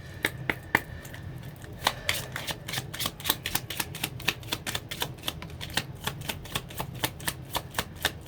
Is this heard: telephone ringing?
no